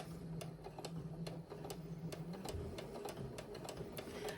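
A sewing machine top stitching a bucket hat runs in a quick, steady rhythm of mechanical ticks and a low motor hum, close and fairly quiet.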